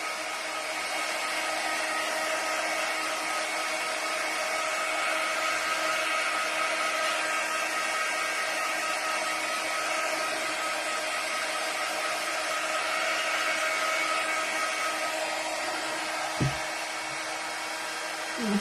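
A heat drying tool blows air in a steady, loud whooshing roar throughout, with a brief click near the end.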